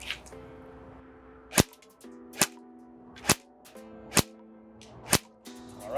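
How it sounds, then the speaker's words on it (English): Airsoft gun shots smack into Lancer Tactical safety goggles, six sharp cracks spaced about a second apart against a steady low hum, each impact loud and close with a brief snap. "I'm going to take 5 shots here and then walk up, do 2 shots point blank"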